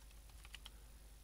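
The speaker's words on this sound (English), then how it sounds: "you just type" A command typed on a computer keyboard in Ubuntu: a short run of soft, quiet key clicks over a low steady hum, with no voices.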